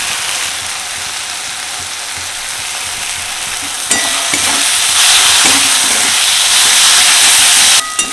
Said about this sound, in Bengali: মশলা আর চিংড়ি মাছ খুব ভালো করে কষানো হয়ে গেছে, একদম ভাজা ভাজা হয়ে গেছে